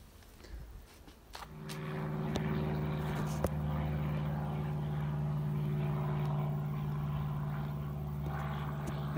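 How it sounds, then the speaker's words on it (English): A light aircraft on a private flying day passes overhead on a Sunday morning, its steady droning engine hum rising after a quiet start and holding loud and continuous with no talk. "There's been lots of planes going over this morning."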